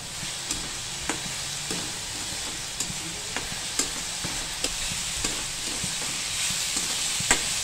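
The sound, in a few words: onion with red chili powder frying and being stirred in pan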